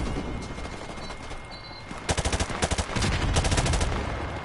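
Gunfire in Call of Duty Modern Warfare: distant crackle first, then several sharp rapid bursts of automatic fire, fairly loud and close, with a steady background hum underneath.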